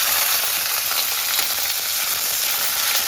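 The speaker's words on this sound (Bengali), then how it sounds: "ক্যাপসিকামটা একটু ভেজে নিচ্ছি" Capsicum frying in a pan alongside green chillies for a chhana dalna, a steady close hiss of oil sizzling evenly throughout with no talk.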